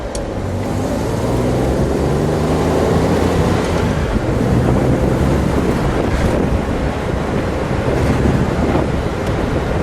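A 1965 Chevrolet Corvair Corsa convertible is driven at road speed with the top down, and heavy wind buffeting roars over a low, steady engine and tyre rumble that continues without a break.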